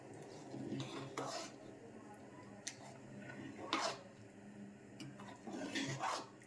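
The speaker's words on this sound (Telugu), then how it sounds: "ఉడికినప్పుడే ఒకసారి కలుపుకోండి" Mutton curry is stirred in a pot, with a spoon scraping and clinking against the metal in irregular strokes. The sound is quiet and close, and there is no talking.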